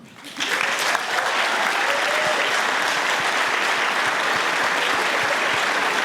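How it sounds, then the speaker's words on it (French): A cinema audience at a film screening bursts into loud, dense applause after a brief quiet start, the clapping holding steady and close to the end. "je vous prie d'applaudir Catherine Fadbert"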